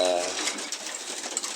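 Racing pigeons in a loft give off a soft continuous cooing murmur, with someone speaking briefly at the start over the birds.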